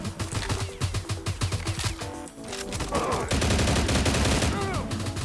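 Rapid bursts of gunshots in a S.T.A.L.K.E.R.-style Minecraft mod, sharp repeated cracks in quick succession followed by denser firing and game sounds, loud and close.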